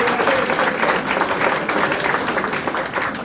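Audience at a superannuation retirement party breaks into applause, a dense, continuous wash of many hands clapping close by for a few seconds, steady and lively throughout.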